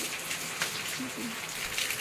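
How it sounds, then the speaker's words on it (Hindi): Heavy rain falling outdoors, heard from inside a home as a steady, fairly faint broadband hiss that runs through the whole moment, with a soft voice-like murmur briefly underneath. "बाहर मस्त अच्छी खासी बारिश हो रही है"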